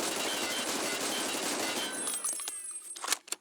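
Automatic weapon fire in a first-person shooter game, a steady dense rattle of rapid shots lasting about two seconds, then a few scattered single cracks and clinks as it trails off.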